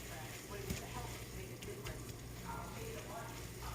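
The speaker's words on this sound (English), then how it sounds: "We got the meat browning." Meat browning in a pan for nachos, a steady close frying sizzle with faint stirring scrapes throughout.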